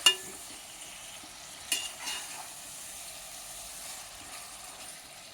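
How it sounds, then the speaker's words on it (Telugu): Tomatoes fry in a coconut masala, giving a faint steady sizzle, with a couple of soft scrapes as the mixture is stirred in the pan. "ఇప్పుడు ఈ మసాలాలో ఈ టమాటా పళ్ళు బాగా మెత్తగా అవ్వాలి."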